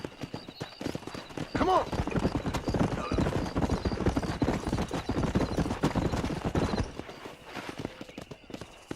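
Galloping horse hooves in Red Dead Redemption, a steady rapid clip-clop running the whole time with occasional whinnies, while someone shouts briefly over it.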